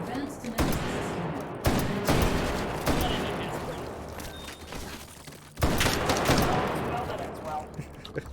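Gunfire in the VR shooter H3VR, with heavy bursts of rapid shots and sharp blasts filling the scene, loud and close, interrupted by brief lulls and a renewed volley.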